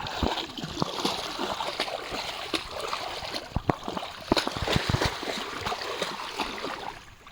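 Splashing in river water as a buffalo is dunked, irregular sharp splashes and sloshing over a steady flowing-water wash, close, with voices in the background.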